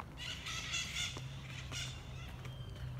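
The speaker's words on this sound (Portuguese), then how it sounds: "Tem umas maritacas lá. Barulhando na árvore, né?" Maritaca parakeets squawk and chatter in bursts from a nearby tree, their shrill calls overlapping above a steady low hum.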